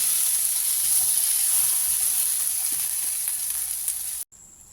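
Loud, steady sizzling of fried potatoes and boiled peas cooking for ghugni in a pan with faint scraping of a spoon, cutting off abruptly just before the end.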